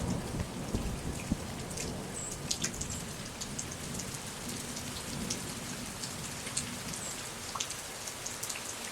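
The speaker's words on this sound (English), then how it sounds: "There's a little thunder in the distance." Steady rain falls on a windy morning in South Carolina, a dense continuous hiss with scattered drops, while low thunder rumbles faintly in the distance beneath it.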